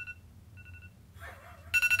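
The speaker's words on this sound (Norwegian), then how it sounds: "Hei Siri, skru av alarm." A phone alarm goes off: soft tonal beeps at first, then a sudden loud, bright ringing burst near the end, with no voices.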